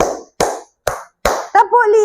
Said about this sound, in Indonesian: Untuk tepuk satunya, tepuk 1, tepuk 2, tepuk 3, tepuk 4,